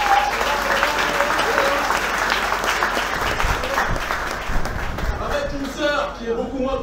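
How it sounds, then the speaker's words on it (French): Dense audience applause at a speech gathering, loud and sustained, with voices mixed in and the clapping thinning toward the end. "que je vous demande d'applaudir, s'il vous plaît"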